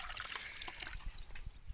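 Water from a kalshi, a household water pot, trickles and splashes in a steady low stream at close range, quiet and unbroken, with no talking.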